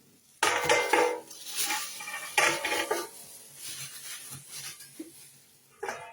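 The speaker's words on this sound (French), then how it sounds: "C'est une marmite." A cooking pot handled and unpacked from a cardboard box, with close clattering metal knocks and clinks in uneven bursts, then quieter rustling and handling between them.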